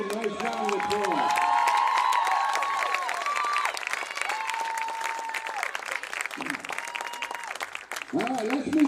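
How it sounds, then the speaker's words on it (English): Crowd applauds and cheers at a Little League baseball championship welcome parade outdoors, with a steady roar of clapping, shouts and whistles and children's voices rising over it. "Let's give them a real nice round of applause."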